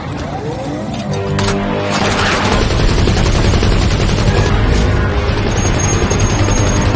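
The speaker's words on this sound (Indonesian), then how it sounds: "Drasa yang ada di seberang juga membantu Levi menembak" Dense bursts of automatic gunfire and shots in a monster-attack film scene, loud and sustained over several seconds with booming impacts and a busy, chaotic backdrop.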